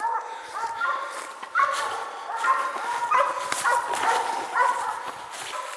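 Walker and mountain cur coon hunting dogs bark and yip steadily at a treed raccoon, loud and close, in a continuous overlapping chorus.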